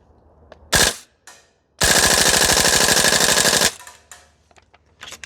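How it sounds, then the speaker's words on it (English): A VFC URGI V3 gas blowback airsoft rifle with upgraded parts fires on full auto: a short burst, then a long rapid rattling string of shots, followed by scattered clicks and handling noises nearby. "See if we can dump a mag."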